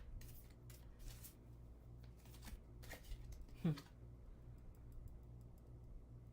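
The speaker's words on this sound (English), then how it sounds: "Okay, so I'm going to put the cards in. Shuffle, shuffle, shuffle." Oracle cards are shuffled by hand in quick, soft riffling bursts close up, against a faint steady background hum.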